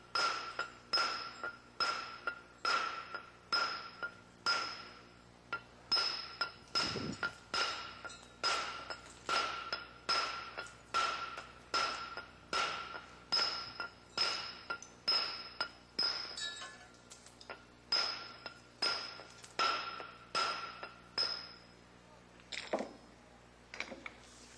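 Rock is pitched with a handset hammer in steady repeated strikes, each a sharp ringing clink of steel on stone, roughly one per second for over twenty seconds with a brief pause partway through.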